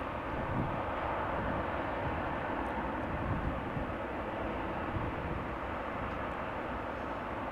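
An airliner lands at Amsterdam Schiphol Airport with a fairly modest, steady engine rumble and broad hiss that holds level throughout, heard from a distance with no talking.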